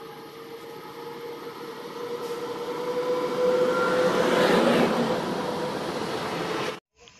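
Train approaching a station platform, a rumbling roar with a sustained tonal whine that swells to a peak and holds before cutting off abruptly, no talking.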